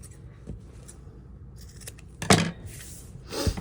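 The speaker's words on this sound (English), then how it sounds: "You also want to cut the corners at an angle." Scissors snip through fabric at the corners and zipper end of a lined sewing pouch, a few quiet crisp cuts followed by two louder, sharper snips near the end, close up with no talk.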